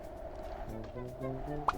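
Short clucking and gobbling calls from a chicken in a small fox, hen and bag puzzle video game, fairly faint and close, ending with a brief sharp pop.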